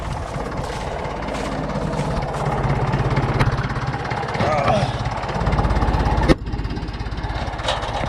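Old steel ground-driven tractor engine running steadily, a low rhythmic chugging with a continuous mechanical drone that stays fairly constant and close, with a brief clank near the end.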